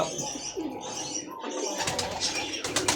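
Pigeons cooing at a bird breeding farm, soft throaty coos close by, mixed with faint chirps and a brief rustle of movement near the end.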